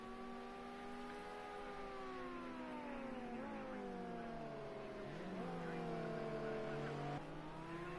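A race car on a time attack lap at Oulton Park, its engine a sustained high whine that rises and dips through gear changes while passing at a distance, with a commentator talking over it.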